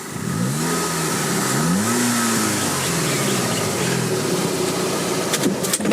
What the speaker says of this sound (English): I'll give you a quick little rev.